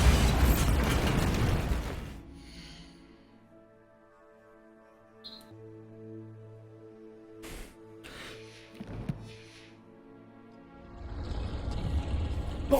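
Bombarda spell explosions in Hogwarts Legacy during San Bakar's Trial: a heavy blast at the start, a few sharp bursts in the middle, and another rumbling explosion building near the end over quiet game ambience.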